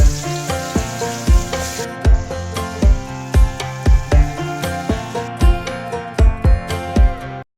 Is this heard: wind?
no